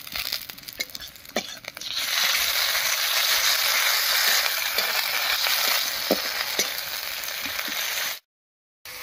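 Garlic-ginger paste, cumin-coriander paste and slit green chillies frying with onions in a pan, a loud steady sizzle with a few soft stirring scrapes throughout, alone and close, cutting off abruptly near the end.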